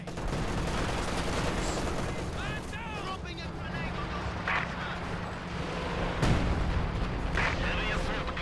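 A Soviet ISU-152 heavy assault gun fires amid a dense Company of Heroes 2 battle, with booming shots and explosions layered over constant gunfire and rumble, and voices heard under the din.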